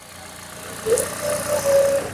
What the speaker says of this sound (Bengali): আমি ইঞ্জিনের সাউন্ডটা শোনাবো